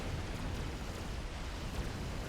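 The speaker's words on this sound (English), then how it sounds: "Strat Bomber comes down, lands its bomb on top of a power generator" A strategic bomber's bomb bursts on a power generator in the Supreme Commander real-time strategy game, a dense, rumbling explosion roar filling the whole moment without voices.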